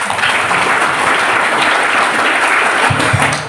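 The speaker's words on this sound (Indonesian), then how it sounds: "Tepuk tangan dulu." Audience applause fills a school hall, a dense, steady clapping that stays loud throughout the short stretch.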